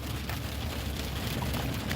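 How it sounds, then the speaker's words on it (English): Steady rain falls as a soft, even hiss of drops, faint and continuous throughout with no other sounds standing out. "Clearly we got rain."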